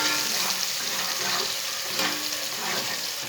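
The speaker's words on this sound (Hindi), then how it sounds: "प्याज को मैंने हल्का सा ब्राउन कर लिया है" Chopped onion sizzles and fries steadily in a pan while a spoon stirs it, a dense continuous crackle with no talk, as cumin and coriander cook for a village-style kadhi pakora.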